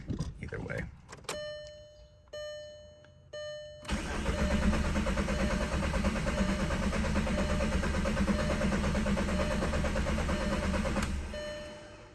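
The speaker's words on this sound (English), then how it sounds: "no start, but very consistent cranking" An ALH TDI diesel car being diagnosed for a runaway fault, with dashboard chimes and clicks at first, then about seven seconds of loud, steady, rhythmic starter cranking that never catches before cutting off.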